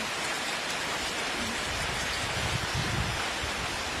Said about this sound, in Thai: แต่วันนี้ฝนตกแรงมาก